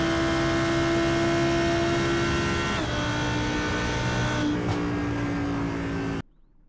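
Lamborghini Huracan GT3 EVO race car lapping Fuji Speedway in the iRacing sim, a loud steady engine drone with shifting pitch from gear changes, cutting off abruptly at the end.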